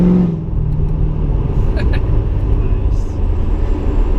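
Straight-piped Corvette engine rumbling loud and close with a steady low roar, a brief rev near the start, while people talk over it throughout.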